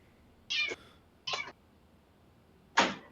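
A person imitating a cat during a tabletop role-playing session, with three loud, drawn-out meows separated by short pauses in a quiet room.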